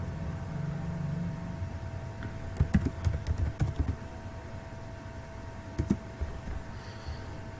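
Someone types on a computer keyboard entering data into a hospital database form, with a few short bursts of soft key clicks over a steady background hum.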